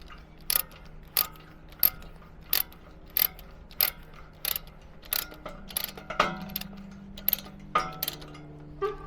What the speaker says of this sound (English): all you're going to do is ratchet it up and try and make the chain as tight as possible.